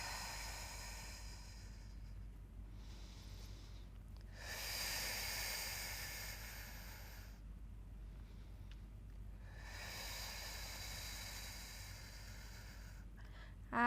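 Slow, steady breathing during a beginner Pilates mat exercise, long hissing inhales and exhales alternating in regular cycles of a few seconds each, close and quiet with no talking.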